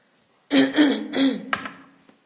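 A man clears his throat and coughs in a few rough, close bursts lasting about a second and a half, followed by a short sharp cough and a faint trailing breath, with no talking.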